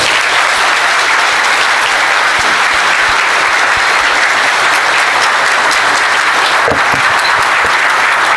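A lecture audience gives warm, loud, sustained applause welcoming speaker Alexandre Garcia to the stage, a thick continuous wash of many hands clapping that holds steady for over eight seconds.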